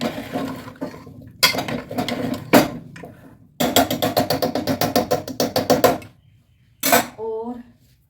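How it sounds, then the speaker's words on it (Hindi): A spoon scrapes and clatters against a pan while spiced pumpkin is stirred and mixed, in rhythmic bursts of metallic scraping with short pauses and a final knock, close and fairly loud. "मैंने अपने कद्दू को अच्छे से चला दिया है, और इसे अच्छे से मिक्स कर दूँगी"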